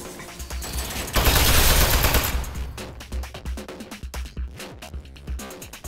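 A stolen turret in Aperture Desk Job firing its gun: a loud, continuous burst of rapid automatic fire followed by a string of quick, separate shots, close and alone.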